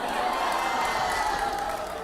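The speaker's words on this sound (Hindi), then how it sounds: "पहले जोरदार तालियां होनी चाहिए" A studio audience at a televised interview with Anupam Kher breaks into sustained applause and cheering, a steady dense roar of clapping and whoops held at even loudness.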